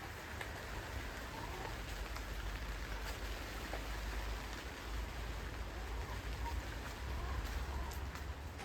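Steady rain falls outside a polytunnel, an even hiss of drops drumming on the surface with a low rumble beneath, continuous and unbroken throughout with no voices.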